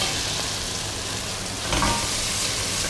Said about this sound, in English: Give the tomato paste a stir around. I like to cook it out.